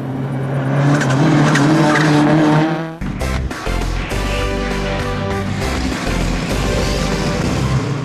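A Mini S 2000 rally car with a 1.6 turbo engine roars close by, its engine screaming before a sharp shift into squealing tires and rough, revving acceleration.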